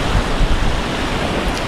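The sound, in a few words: river water flowing with current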